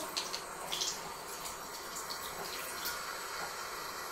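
Water runs steadily into a bathroom basin while makeup brushes are dampened under the tap, a soft continuous close splashing with no talking.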